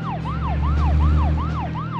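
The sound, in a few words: police car sirens in video game Deadly Premonition: Origins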